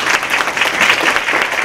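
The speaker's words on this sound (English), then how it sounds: "Maybe we would like to give them a round of applause." An audience applauds thanking two panel speakers at a talk on raising children in the digital age: dense, steady clapping from a full room, close and loud, with no voices over it.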